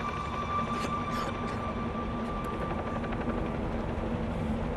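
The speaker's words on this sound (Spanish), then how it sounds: "El ruido del helicóptero era cada vez más fuerte" A helicopter during a rescue attempt over the Kilauea volcano drones in a steady, dense rotor roar that holds at constant volume throughout, with faint rhythmic chopping above the rumble.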